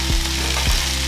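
Chicken drumsticks are mixed with curry powder in a hot frying pan, making a loud continuous sizzle with two dull thumps as the spoon moves the meat.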